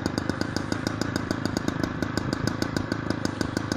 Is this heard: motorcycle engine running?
yes